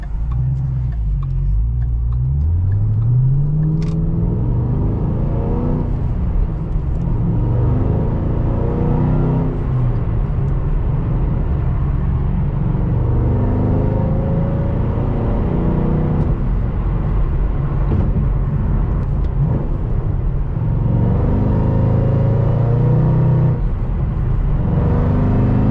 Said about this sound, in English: let's go and give it one more drive to the shop and enjoy the exhaust